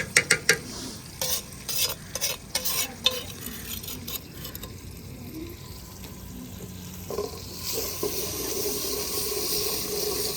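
Hot ghee crackling and frying in a pan, a few loud stirring clatters at first, then a steady close sizzle that grows brighter and fuller, with no voices.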